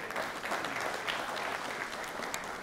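An audience gives a short round of applause, an even wash of clapping at moderate volume, fairly distant and steady with no voices over it.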